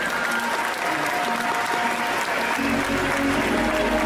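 Loud, steady applause from the audience at an indoor cosplay parade, thick continuous clapping with a low rumble building in the last second.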